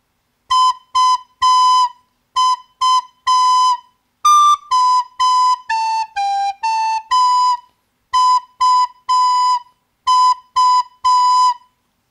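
Recorder plays the opening bars of a Squid Game tune as a clear, close melody of short separated notes in groups, with a few held tones and brief pauses between phrases.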